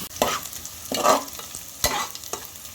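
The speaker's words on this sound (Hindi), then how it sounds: "ये हमारे अभी कांदे हो रहे हैं गोल्डन और थोड़ा पकाना है हम लोग को इसमें" Onions frying to golden brown for prawn biryani crackle in hot oil, with a few bursts of stirring and scraping in the pan, close and clear.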